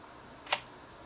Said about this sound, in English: So here's the shutter firing